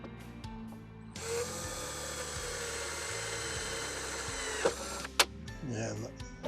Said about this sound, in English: So we'll go ahead and drill our second hole.